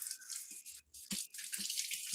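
Running tap water pours into a kitchen sink while a tomato-stained knife is rinsed, a steady close hiss broken by a brief pause and a few splashy surges as the blade moves through the stream.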